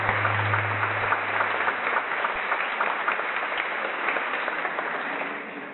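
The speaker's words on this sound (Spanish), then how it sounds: "un fuerte aplauso porque ha estado súper" An audience at a leadership conference gives a hearty round of applause, a sustained, even roar of many clapping hands filling the room from start to finish with no talking over it.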